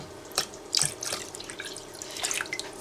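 Water poured into a chicken and rice casserole dish, a few splashing, trickling bursts near at hand with a brief louder gush, no voices.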